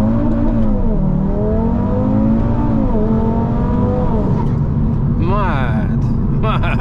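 A loud 520 hp Audi RS3 engine revs hard at night and climbs through the gears, the pitch rising and dipping with each shift, then a sharp burst of rapid high revving near the end.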